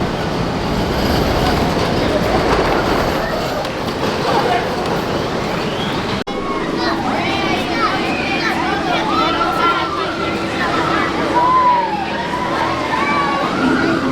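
A ride on the Flying Turns wooden bobsled roller coaster at Knoebels rumbles and clatters loudly throughout, with squealing wheels and rising screams and voices from riders in the later part.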